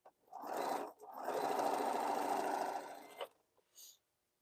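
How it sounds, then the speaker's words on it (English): A sewing machine stitching the final piece of a quilt, a steady close whirring run of about two seconds after a brief start, then stopping with a few small clicks. "Just sewing that last piece right there."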